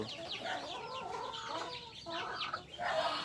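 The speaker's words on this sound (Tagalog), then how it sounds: "So, guys, i-update ko rin yung mga sisiw." Shamo Aseel chickens with their chicks cluck and cheep steadily, close by, with high peeping chicks layered over lower hen clucks in a continuous outdoor farmyard chorus.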